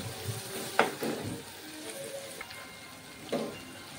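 Chopped onions frying in a pan give a faint, steady sizzle, broken by a few soft scraping stirs, quiet and close with nobody talking.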